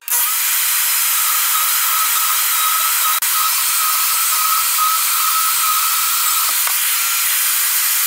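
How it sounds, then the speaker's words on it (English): A loud, steady high-pitched power tool whine cuts off the threads of a bolt, starting abruptly and running continuously with one brief dip near the middle. "I'm also going to cut off the threads of this bolt because we don't need it."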